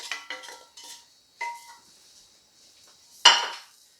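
Sautéed vegetables scraped into a pot for a quick refried bean taco dip, a series of sharp metal clanks and utensil scrapes against cookware, close, ending with one loud clatter, with quiet gaps between.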